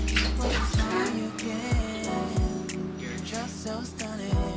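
Tap water running into a bathroom sink, used for hand-washing a stamped cross stitch piece, a steady close splashing flow with small drips and knocks throughout.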